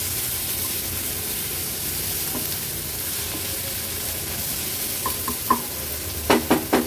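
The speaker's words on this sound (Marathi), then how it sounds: "टोमॅटो देखील वाटणामध्ये छान एकजीव करून घ्यायचे" Chopped tomato is stirred into a sizzling masala paste for squid kheema, with a steady frying hiss throughout and a few quick spoon scrapes and taps against the pan near the end.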